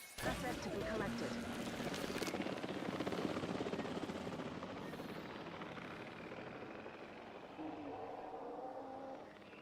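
Helicopter rotor thudding as it airlifts a Struthiomimus dinosaur into a park in the video game Jurassic World Evolution 3, a steady, loud mechanical drone throughout with game sound effects layered over it.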